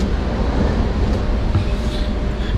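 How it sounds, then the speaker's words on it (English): Steady low rumble of a moving subway train carriage in New York City, continuous rolling noise with faint high squeaks, no talking. "How you enjoying your first train ride"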